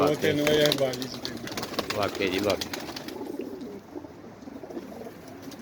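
Pigeons in a loft coo softly in the background while someone talks close by over the first half, and the birds carry on faintly once the talking stops.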